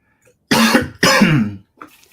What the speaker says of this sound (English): I hope this cough will allow me to read